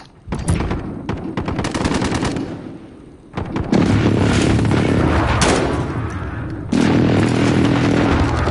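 Enemy precision airstrike in a PS4 shooter game: loud, repeated bursts of explosive blasts and rapid gunfire-like cracks roll on in dense waves, with short lulls between heavy barrages.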